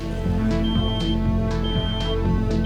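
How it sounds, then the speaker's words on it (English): An alcohol-detection warning buzzer in a car sounding repeated short electronic beeps about every half second, loud and close over a dense steady musical backing. "the warning lights will start blinking and the buzzer will start ringing."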